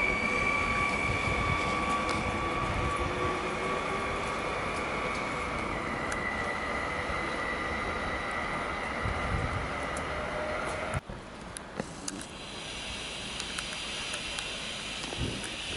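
Train moving through Łowicz Główny station in gloomy, rainy weather, a loud sustained rolling rumble with wheel and rail noise that drops off abruptly near the end, leaving quieter ambience with faint clicks.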